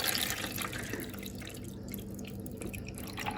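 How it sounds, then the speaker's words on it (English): Cold water pours from a jug into the reservoir of an Aldi drip filter coffee machine, a steady splashing trickle with dripping close by and no talking. "Put cold water in there, and then I'm going to pour that water"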